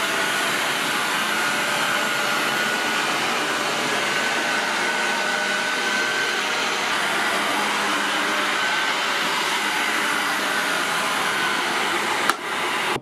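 A Tineco Carpet One carpet cleaner runs in max drying mode, a loud, steady suction whine and airflow rush held close for the whole stretch, with a brief knock near the end.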